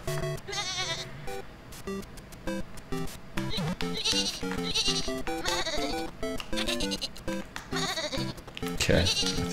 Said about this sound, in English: Okay, I think this character is Shaun the Sheep.